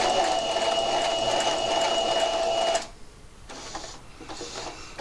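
A sewing machine stitches fabric for a Christmas tree project toward a marked dot, running in a steady, close, mechanical whir for nearly three seconds before stopping, leaving quiet room noise.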